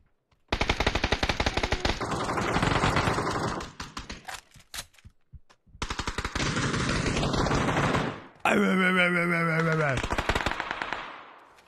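Rapid automatic gunfire in a video game rattles in long bursts, breaking off around the middle and then resuming, mixed with other game effects including a warbling tone near the end.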